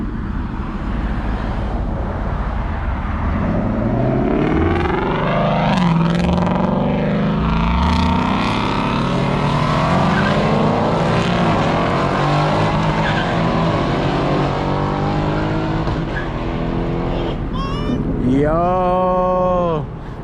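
A 2021 Ford Mustang Mach 1 driven hard with engine roar sweeping up and down, repeated loud tire squeals from drifting, and a final sharp rising rev near the end, all close and dense.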